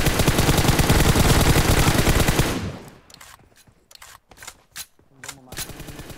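Sustained rapid automatic gunfire in the mobile game PUBG Mobile, loud and continuous for a couple of seconds, then giving way to scattered sharp single shots and clicks with gaps between them.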